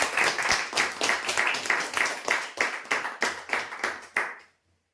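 A crowd claps for prize winners at a weekly lucky draw event, a steady run of bursts lasting about four seconds, fairly close and loud, before stopping abruptly into silence.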